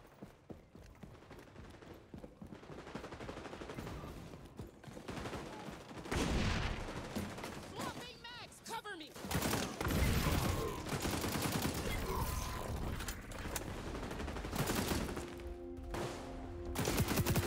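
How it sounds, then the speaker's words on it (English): Gunfire in the shooter XDefiant, including an enemy's shotgun, cracking in scattered loud bursts and volleys over a busy, noisy battle background for most of the stretch. "Guy's got a shotgun for sure."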